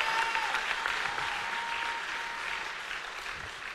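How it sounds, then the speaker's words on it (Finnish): Applause from a church audience at a revival meeting in Finland, a steady dense wash of clapping that stays loud and even throughout with no voices on top. "Come on, clap for Jesus."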